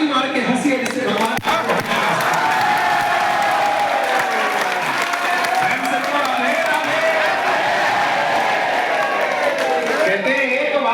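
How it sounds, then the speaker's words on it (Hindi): A large temple crowd at Nandgaon near Mathura claps hands continuously and loudly throughout, a dense, steady wash of clapping with a voice speaking over it. "एक बार हाथ ऊपर करो और एक बार प्रेम से ताली मार के हंसिए"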